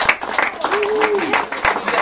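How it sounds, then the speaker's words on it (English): Audience applause at a talk breaks out briefly for a returning speaker, a busy patter of clapping with voices talking over it. "Big round of applause."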